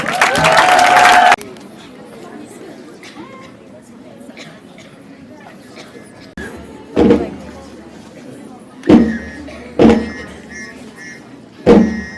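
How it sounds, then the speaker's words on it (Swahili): Applause at a school gathering during a cabinet secretary's visit to a girls' school in Siakago, Kenya: a dense burst of clapping for about a second, then quieter room noise broken by a few sharp thumps. "Tupigie makofi tena"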